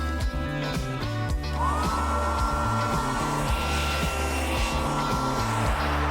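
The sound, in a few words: hair dryer drying a lip tattoo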